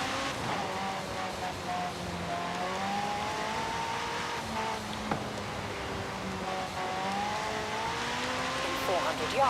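A car in a video game drives and revs on a wet road, with engine pitch rising and falling through gear changes as tires hiss, while someone talks over it.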